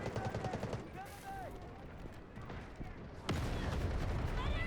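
SMG fire in a free-to-play Battlefield game: rapid bursts of automatic gunshots, moderately loud, with a heavier stretch of firing near the end, under a player's voice talking over the shots.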